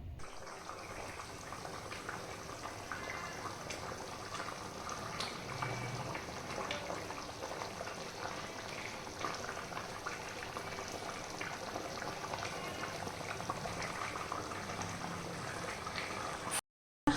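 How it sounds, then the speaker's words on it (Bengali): Water poured into frying mutton curry, a steady hissing, bubbling rush of liquid that holds evenly close by for the whole stretch, then cuts off abruptly. "এইবার জল অ্যাড করবো"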